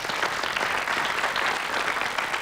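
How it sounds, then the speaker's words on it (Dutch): Studio audience on a Dutch TV quiz show applauds a contestant, a short burst of steady, fairly loud clapping with no talk over it. "Applaus voor Jacqueline."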